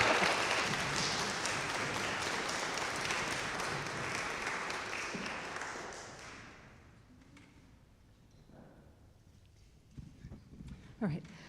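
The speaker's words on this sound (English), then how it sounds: "Can everyone give the bishops a round of applause?" Audience applause for bishops at a community forum, loud broadband clapping for about six seconds that fades into quiet room noise with scattered thumps and light movement afterward.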